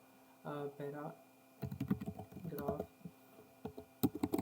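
Someone types a search on a computer keyboard in quick bursts of close clicking keystrokes, with a short stretch of voice before the typing starts.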